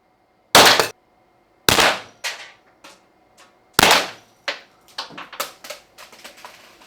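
A Byrna LE less-lethal launcher fired outdoors at a target, several sharp pops spaced apart, then a quicker run of shots, each followed by a brief ringing tail.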